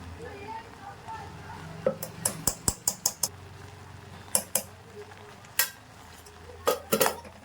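A spoon stirs sweet corn with ghee, pepper and cumin powder in a metal pan, giving a quiet scrape and a series of sharp clinks against the vessel, clustered in short bursts over faint background noise.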